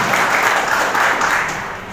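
Audience applause welcoming Dr. Sumantra Sarkar at a cancer awareness event held by a hospital, a dense, steady wash of many hands clapping that tapers slightly toward the end.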